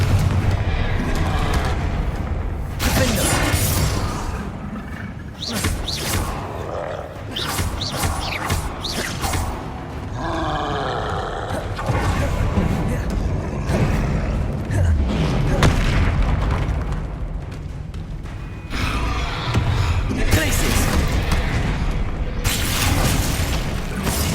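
Heavy booms and blasts go off amid a dense, loud mix of game combat sounds during spellcasting in Hogwarts Legacy, including a Confringo fire-blast spell, with bursts recurring across the fight.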